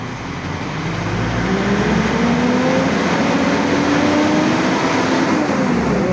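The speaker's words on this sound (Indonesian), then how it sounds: "gas di RPM 3000 ya" A 2018 Mitsubishi Triton GLX single-cab 4x2 pickup engine is revved and held around 3000 RPM, a loud, steady diesel drone with a slowly rising tone, close by and without talk.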